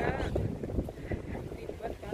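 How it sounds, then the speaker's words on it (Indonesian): Cold wind buffets the microphone outdoors near Girona, a steady low rumble with gusts, while talk carries on over it. "Jadi rambutnya dia ketiup angin"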